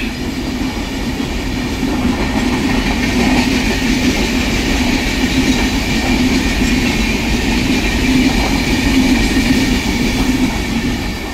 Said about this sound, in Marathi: ही पूर्ण AC ट्रेन आहे.